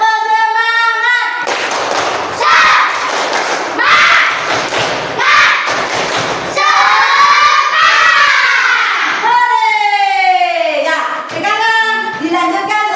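A school class performs the tepuk semangat spirit clap, bursts of rhythmic group clapping and shouted chant alternating with a teacher's sung prompts, loud and close in a classroom.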